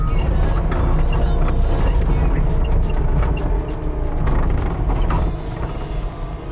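An excavator working in a flooded parking lot scoops standing water, giving a continuous loud mechanical churn with clanking, creaking and splashing textures throughout.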